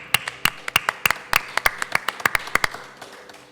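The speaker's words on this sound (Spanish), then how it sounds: "Un aplauso a los que vinieron." Sparse, distinct handclaps from a small audience, a few people clapping in an uneven rhythm, sharp and close, trailing off toward the end.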